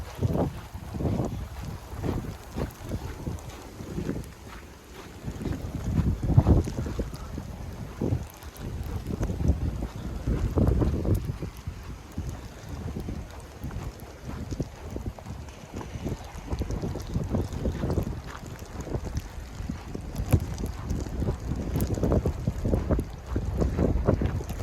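Bone-chilling cold wind gusting during a snowstorm in Myrtle Beach, buffeting the microphone in steady rumbling surges for the whole stretch, with no voices heard.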